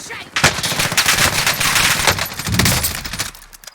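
Rapid automatic gunfire from the Call of Duty Warzone video game rattles loudly and continuously in close bursts, with a brief pause in the middle before firing resumes.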